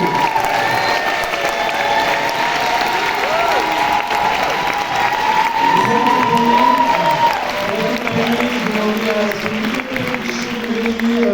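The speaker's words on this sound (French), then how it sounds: "je vais vous demander de faire un tonnerre, une cascade d'applaudissements pour la réalisatrice" A loud, thick wave of clapping with some cheering fills a cinema for director Caroline Deruas at the screening of her film Les Immortelles, with voices rising through the ovation midway.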